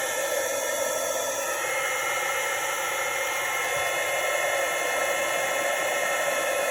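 Steady, loud broadband whoosh of a heat tool blowing continuously while heating a snowy-themed card, an unbroken airy hiss with no talk.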